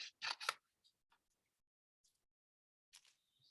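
Scissors cut through folded paper for a kindergarten art project, a few quick crisp snips close by, then sparse faint rustles in near silence.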